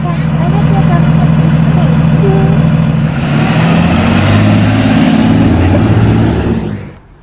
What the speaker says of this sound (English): I think I hear the bus.